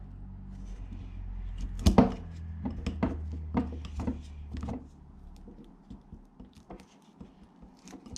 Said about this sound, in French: je vais venir écraser un petit peu ma colle